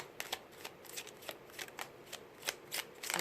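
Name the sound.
shuffling Secret Garden tarot cards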